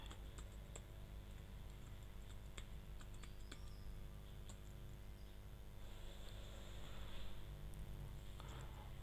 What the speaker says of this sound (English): Type your profile password here.